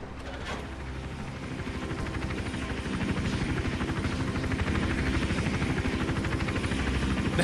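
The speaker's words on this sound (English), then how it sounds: "The helicopter, it's all smoky." A helicopter's rotor in the video game Hitman: Absolution thrums continuously and loudly, a steady chopping drone that grows slightly stronger partway through.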